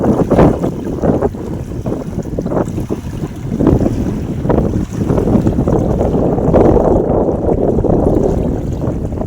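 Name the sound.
water waves on Barur Lake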